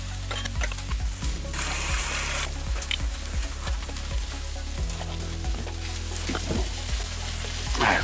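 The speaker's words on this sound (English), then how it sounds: "There's some really tender steaks. They're almost falling apart in the pan." New York strip steaks sizzle in a pan, heard as a loud, continuous frying crackle close by, with a few brief bursts of hiss and some low clatter underneath.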